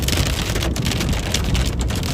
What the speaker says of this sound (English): Getting some hail.